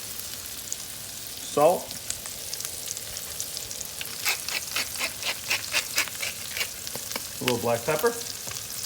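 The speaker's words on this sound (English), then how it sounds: "We're going to do a little bit of olive oil in the pan. And then a generous knob of butter. We'll add our onions in." Onions fry in olive oil and butter in a pan with a continuous sizzle and intermittent stirring scrapes, while a person briefly talks over the cooking.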